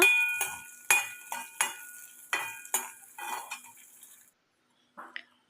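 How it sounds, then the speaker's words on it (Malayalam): Dried red chillies stirred in hot oil in a pan while cooking a Kerala fish curry, heard as a run of sharp scraping spoon strokes against metal with a faint sizzle, close and loud, then a brief pause and one last clink. "അതിലേക്ക് നമ്മൾ വറ്റൽ മുളകിട്ട് നന്നായിട്ടൊന്ന് ഇളക്കി മൂപ്പിച്ചെടുക്കുക"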